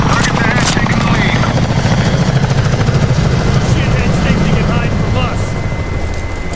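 Helicopter rotor and engine roar from the Call of Duty: Cold War video game, a loud steady drone throughout under voices talking over radio chatter.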